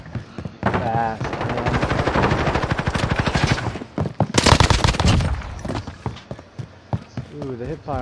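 Rapid automatic hip fire from a gun in a video game, loud bursts of closely spaced shots in quick rhythm, pausing and resuming, with a voice and game sounds in between.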